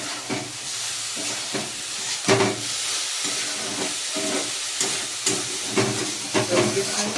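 A spice mix cooks with chopped potatoes in a pan, giving a continuous hissing sizzle broken by irregular louder spurts and scraping stirs.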